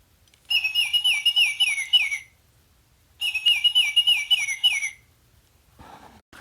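Electronic Baltimore Oriole bird call from a detailed toy bird, two bursts of bright, rapidly warbling whistled song, each about two seconds long with a short pause between, loud and close, followed by a faint rustle.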